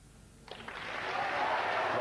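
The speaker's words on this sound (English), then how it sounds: "they're cheering" Snooker crowd at the LG Cup breaking into cheering and applause, building from a quiet hall into a sustained, swelling roar that holds steady to the end.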